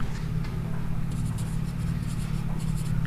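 Pen or chalk writing during a classroom lesson: light scratchy strokes come in short bursts over a steady low hum, close and moderately loud, with no speech.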